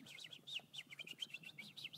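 Rapid, high chirps from a sparrow in a restored wetland, repeating in quick bursts over the full two seconds. The calls are fairly close and steady against faint low background rumble, with no voices.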